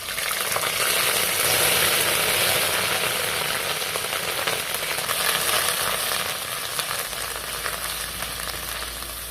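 Ginger paste with whole garam masala and dried chillies fries in a thin wok, giving a loud, continuous close-up sizzle that eases slightly toward the end, with no voices.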